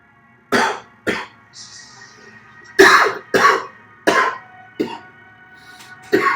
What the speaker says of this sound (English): there are moments you cough and moments you don't.